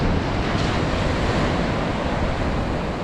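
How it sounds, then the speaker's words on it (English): Ocean surf pounding steadily along the Florida coast near Melbourne at dawn, a loud continuous wash of breaking waves with wind buffeting the microphone throughout, no voices. "The waves look just a little angry."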